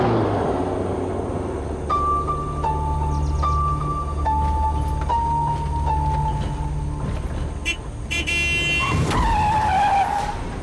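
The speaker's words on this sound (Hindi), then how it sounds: "भाई सॉरी हमारी गाड़ी को टक्कर कैसे मारी" Car skid leading into a collision with another car, heard as a loud continuous engine and tyre roar with a rising squeal, then a sudden burst of clattering impact noise near the end.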